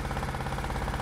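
A trawler's engine chugs steadily in a low, continuous drone as the boat moves forward along the river between Kamrangirchar and Sadarghat, close and even throughout with no voices.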